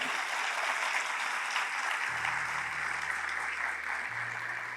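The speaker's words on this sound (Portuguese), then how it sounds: "uma salva de palmas" Steady, dense applause from a large audience at a national labour judiciary congress opening ceremony, sustained evenly throughout, with a low musical tone entering partway.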